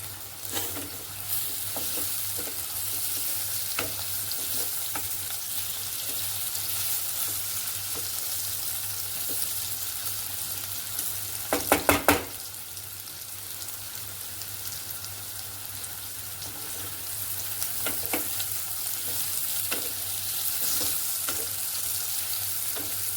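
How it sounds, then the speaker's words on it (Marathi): Spinach and potato stir-fry in a pan, giving a steady, rain-like sizzle throughout with occasional soft scrapes of stirring and a brief cluster of sharper clatters midway, close and continuous with no speech. "एक 2 मिनिट असं परतायचं याला। थोडी स्पीड वाढवते।"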